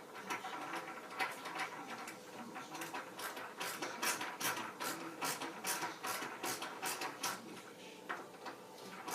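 Bolts are turned into a kids' TK helmet kit with a ratcheting tool, producing rapid repeated clicking bursts in an irregular rhythm, close and moderately loud, with no talking.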